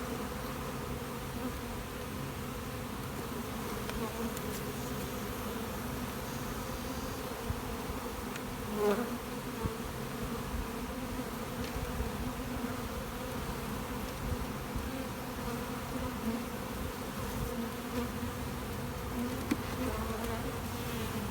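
Honey bees from overwintered nucs hum steadily around a brood nest during installation, a constant low drone of many wings, close and moderately loud, with an occasional louder bee passing near.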